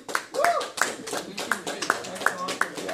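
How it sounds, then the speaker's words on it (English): A few students in a classroom clap in a slow, uneven rhythm, with sharp individual hand claps spaced roughly every half second, while people talk over them. "Are we clapping?"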